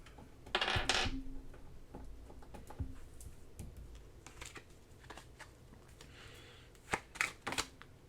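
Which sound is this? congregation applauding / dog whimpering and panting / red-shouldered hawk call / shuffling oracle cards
shuffling oracle cards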